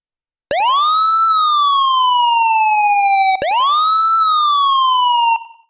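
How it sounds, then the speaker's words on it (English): Two loud police siren sweeps from a Novation MiniNova synthesizer, each rising sharply then slowly falling in pitch, electronic and clean with no background noise. "this is how you make sirens for police cars."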